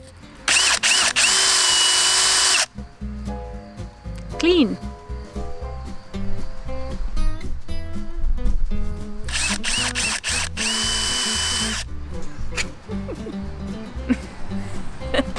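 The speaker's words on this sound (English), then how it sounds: "We just decided to take our wire brush, and put it in our drill." A power drill spinning a wire brush whirs loudly in two sustained bursts, a high steady whine with a metallic brushing hiss, separated by talking over background music.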